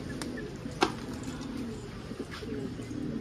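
A wild bird, probably a pigeon, coos softly near a window, a few low calls over quiet room ambience, with one sharp tap and a couple of brief knocks in between.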